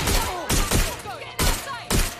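Video game gunfire in a campaign mission, sharp bursts of rapid shots coming in four loud separated volleys, close and dominant with no clear talk over them.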